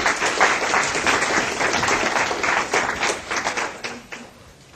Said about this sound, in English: So let's give a round of applause to Dave Perry.